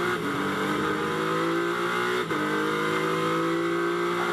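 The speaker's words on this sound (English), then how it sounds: "Oh, it's a lusty V6." A V6-engined GT race car at Silverstone during Blancpain GT Series Endurance pre-qualifying, loud and steady engine note climbing through the revs with a brief dip around the middle, heard alone.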